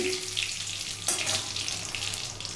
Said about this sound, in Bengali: জিরে, তার সাথে একটা শুকনো লঙ্কা ফোড়ন দিয়েছি, আর দিচ্ছি দুটো তেজপাতা।